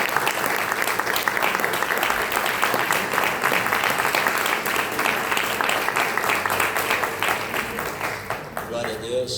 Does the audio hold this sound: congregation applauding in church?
yes